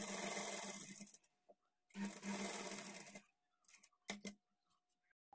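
Sewing machine double-stitching a blouse seam after the sleeves are attached, working in short close bursts with pauses between them, then a few clicks and brief final runs.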